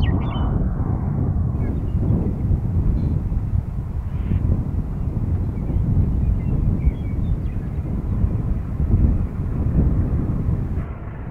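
Wind roars across the microphone at a high railway vantage point beside a highway, a loud constant low buffeting rumble with gusty swells that runs the whole time and never lets up.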